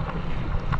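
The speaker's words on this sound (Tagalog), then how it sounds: "Ang lakas kasi ng alon oh." Strong surf breaking on a beach where many fish have washed ashore, heard as a steady, loud roar of rushing water with wind buffeting the microphone throughout, no voices.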